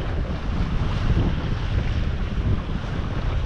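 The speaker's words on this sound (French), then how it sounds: "ça y est ! On touche du vent !" Steady wind rushes and buffets against the microphone while sailing on a sailboat, a continuous low roar with water noise beneath it.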